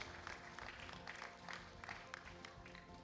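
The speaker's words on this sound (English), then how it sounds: "let's give a round of applause for all the graduates for" An audience claps for all the graduates of a 2026 graduation ceremony, producing a sustained, even wash of many hands clapping for a few seconds.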